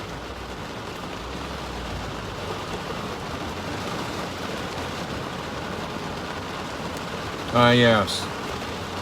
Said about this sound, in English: That's what rain does.